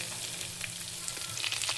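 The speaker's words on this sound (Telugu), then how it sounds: "ఇప్పుడు దీంట్లో పచ్చిమిర్చి, ఆనియన్ వేసేసుకుందాం." Green chillies and onion frying in a hot pan of oil with curry leaves for spicy garlic rice, a steady close sizzle with faint crackles and stirring scrapes.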